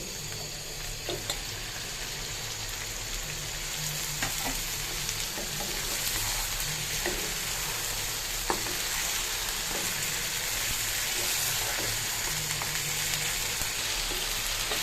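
Chicken sautéing in a pan of cooked-down spices for chicken rezala, a continuous close sizzle with soft stirring scrapes and clicks throughout, steady and moderately loud.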